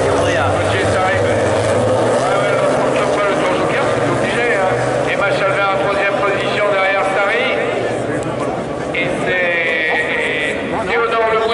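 Clio Cup rallycross cars launch off the start in a French championship semi-final at Kerlabo, a loud, continuous roar of several engines with layered revving, heard under an excited commentator's voice.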